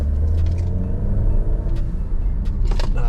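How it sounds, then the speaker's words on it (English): An Alfa Romeo Stelvio engine fitted with a K&N air filter rumbles steadily at close range with a rising whooshing turbo spool and airy intake suction, no voices. "you could definitely hear the spool"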